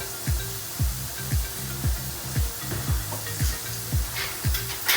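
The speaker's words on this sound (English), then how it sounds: "The tofu is getting fried" Tofu frying in a pan with cumin and pepper, a steady loud sizzle with a regular rhythmic scraping or stirring pulse repeating roughly twice a second throughout.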